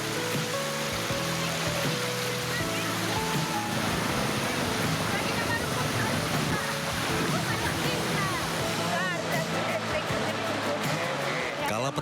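Flash flood water rushes over a road linking South and North Tapanuli, a loud, steady roar of flowing water heard continuously throughout, with a voice talking over it.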